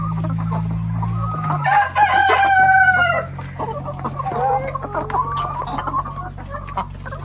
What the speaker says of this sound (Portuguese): Esse galo aqui, gente, ele tá preso